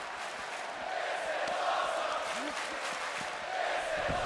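Crowd at a wrestling show, a steady wash of distant cheering and murmur that swells slightly in places, with no talk.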